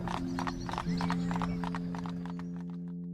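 Horse hooves clip-clopping along a road, a steady run of clear, fairly close hoofbeats over a low humming tone, fading slightly toward the end.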